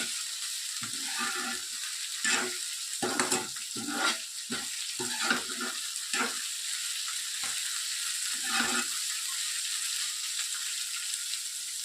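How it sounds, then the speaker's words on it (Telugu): Fenugreek leaves frying in a pan for chutney, giving a steady broadband sizzle broken by repeated scraping stirs of a spatula, close and moderately loud, with no talking. "మెంతికూర బాగా వేగాలి, అప్పుడే పచ్చడికి మంచి టేస్ట్ వస్తుంది."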